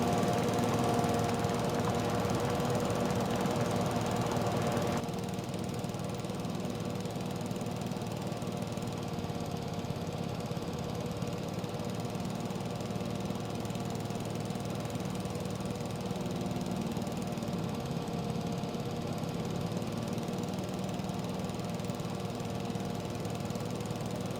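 Riding lawn mower engine in Farming Simulator 22 running at a constant, droning hum with a slight knocking rumble, steady and close throughout, a little louder in the first few seconds before settling lower.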